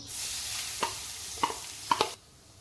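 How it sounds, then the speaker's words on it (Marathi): Grated fresh coconut roasts in ghee in a wok over low heat, a faint sizzle under several sharp spatula taps against the wok before it suddenly quiets; no one speaks. "आता हे मंद आचेवरती आपण पाच मिनटं भाजून घेऊया"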